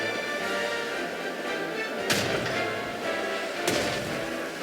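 Game artillery fires in Strategic Mind over a dense, steady battle din, with two sharp booming impacts about a second and a half apart and faint thuds beneath.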